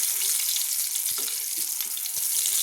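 Eggplant slices fry in a pan of hot oil for a shrimp-and-eggplant dish, giving a steady, dense sizzle throughout with a few soft clicks and bumps from the pan, no talking.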